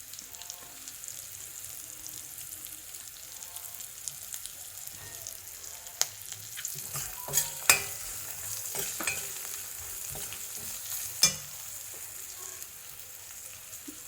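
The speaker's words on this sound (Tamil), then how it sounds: "இஞ்சி, இப்போ காயம் போடுறேன்." Ginger and asafoetida hit hot oil in a pan, giving a faint, continuous sizzle with scattered small pops and crackles throughout.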